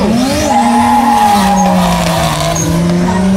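A drift car skids hard through a competition run at Drift Matsuri, tires squealing in a long sustained wail over a loud, steady engine roar that bends in pitch, close and continuous.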